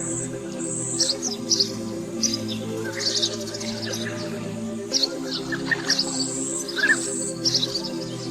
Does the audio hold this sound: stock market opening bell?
no